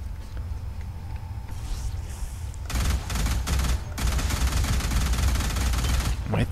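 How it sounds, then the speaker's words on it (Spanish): Ion rifle fire from the shooter game Alien Rage crackles in dense rapid bursts, loud and continuous through most of the stretch after a quieter opening with faint background sounds. "Un pinche fusil de iones."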